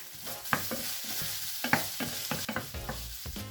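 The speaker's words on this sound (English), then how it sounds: "add your 1 tablespoon of tomato puree. Mix it until the whole thing is tomatoey." Beef mince sizzles loudly in a hot pan while tomato puree is stirred in, with repeated scraping strokes and utensil clatter over a constant frying hiss; no one speaks.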